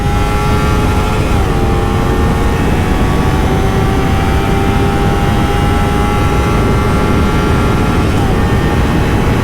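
A Kawasaki Ninja 300 motorcycle engine screams at very high revs, around 13,000 RPM, with a steady, loud whine held throughout. The pitch steps slightly twice and wind roar sits underneath.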